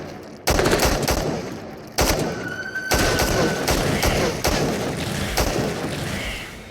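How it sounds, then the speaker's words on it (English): A SCAR assault rifle firing in the VR game Into The Radius, loud close bursts of rapid automatic shots separated by short pauses, with a faint tone ringing beneath. "The only gun in this category is the Scar"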